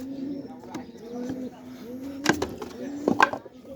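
Low, repeated cooing of a male pigeon, held in the hand after being caught, running under an ongoing voice, with a couple of sharp knocks or flutters near the end.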